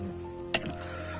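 Instant mie goreng noodles cooking as soup in a pot on a backpacker kitchen stove near Mount Rinjani: a steady low sizzle and simmer with one sharp metallic clink of a utensil.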